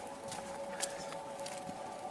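Steady rain patters through the forest on the Annapurna trek, a dense even hiss with scattered drop ticks and a constant low tone underneath, no voices.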